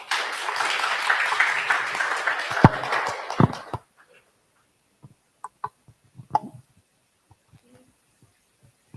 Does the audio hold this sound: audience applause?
yes